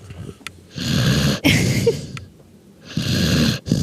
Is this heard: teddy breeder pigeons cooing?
no